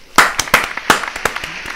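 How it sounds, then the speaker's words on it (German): A small group claps a short burst of applause, with sharp, uneven slaps close by and fading out within a couple of seconds. "Ein Applaus dafür."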